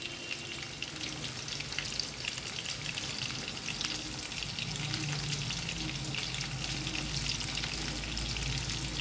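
Prawns fry in a pan over a medium flame, crackling and sizzling steadily up close for the whole stretch, with faint stirring texture and no voices.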